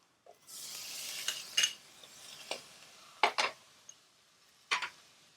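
A spoon stirs chopped tomato into a frying pan of masala for methi pulao. It gives several clear, separate scraping and clinking strokes over a soft sizzle, with no talking.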